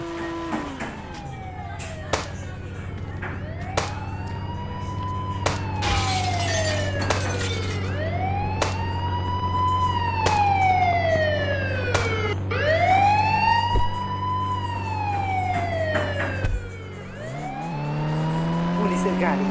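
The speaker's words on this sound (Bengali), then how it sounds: "পুলিশের গাড়ি" Cartoon police car siren wailing in repeated rising and falling sweeps over a steady engine drone, loud and close, with sharp clicks and a brief crash partway through.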